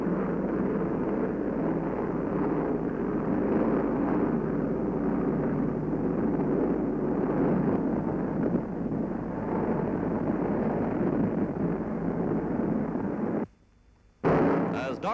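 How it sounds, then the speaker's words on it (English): WWII bombers and fighters pounding and strafing Axis columns in Tunisia, a dense continuous roar of explosions and gunfire under a narrator's voice, cutting out briefly near the end. "Bombers and fighters pounding and strafing the Axis columns"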